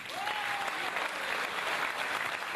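An audience in a hall applauds to welcome French politician Jean Arthuis at a round-table evening, with a sustained, even roll of many hands clapping and a brief whistle-like tone early on.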